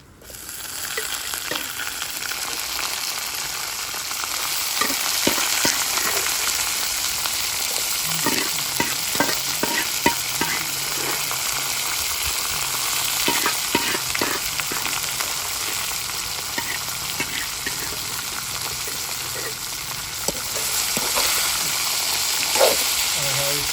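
Dried red chillies and curry leaves sizzle in hot tempering oil after mustard seeds, a steady crackling fry lasting the whole time with occasional stirring clinks and a voice talking faintly over it.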